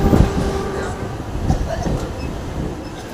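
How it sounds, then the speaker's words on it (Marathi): Ride aboard a Mumbai local train heading toward Wadala, with a continuous low rumble of the carriage, a few metallic clanks and knocks over constant background noise, and faint voices in the crowded compartment. "मी आता वडाल्याच्या गाडीमध्ये बसलोय आणि वडाल्यापासून मी परत CST ची गाडी पकडणार"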